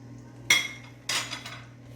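A metal spoon stirs sugar into plum chutney in a pot, giving two sharp clanking knocks against the pot with a short scrape after each, over a steady low hum.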